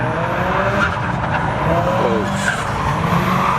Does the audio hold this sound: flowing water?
no